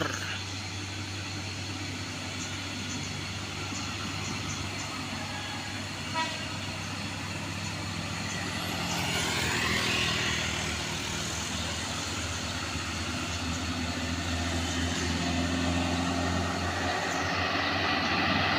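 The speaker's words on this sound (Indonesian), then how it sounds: "Di sini truk pembawa batu bata sudah melaju." An old Nissan truck loaded with bricks drives along with a steady, low engine drone and road rumble throughout, a brief horn-like toot sounding partway through, with no talk.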